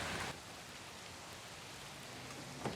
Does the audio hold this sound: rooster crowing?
no